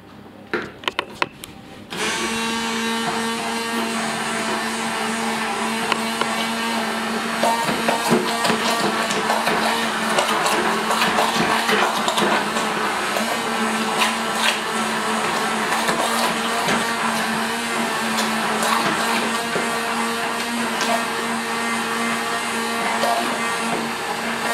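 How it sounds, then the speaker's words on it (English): A handheld stick blender whirring through a lumpy milk batter in a home kitchen, a steady loud motor drone that starts after a brief clatter and runs continuously for over twenty seconds. "So if you like, you can use your stick blender"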